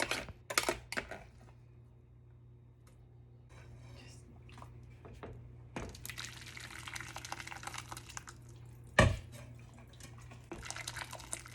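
A metal food mill pressing cooked tomatoes for juice makes sparse, close clinks and scrapes against a pot, with scattered wet drips and one sharp metallic clank between quieter stretches.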